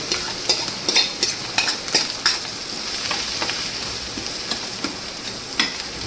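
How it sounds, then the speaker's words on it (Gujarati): Cumin seeds sizzle in hot oil for a tempering, with a steady crackling hiss broken by sharp utensil scrapes and taps against the pan, close and fairly loud, no voices. "હવે જાણે વઘાર કરી નાખીએ આપણે."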